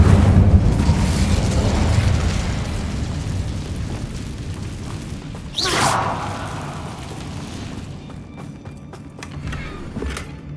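Incendio fire spell cast in Hogwarts Legacy, a loud rushing burst of flame and whoosh that fades out, followed by a sharp pop and smaller crackling bursts toward the end.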